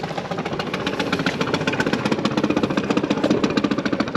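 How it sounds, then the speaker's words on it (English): A sailboat's engine idles in reverse while leaving a trot mooring, a steady close knocking diesel-like chug with a fast even pulse throughout and no talk. "So I'm just idling in reverse now."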